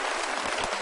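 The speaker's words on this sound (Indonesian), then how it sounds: "kita tepuk tangan Andri Wibowo." Audience applause at an Indonesian television talk show taping, a brief dense burst of steady clapping with no voices over it.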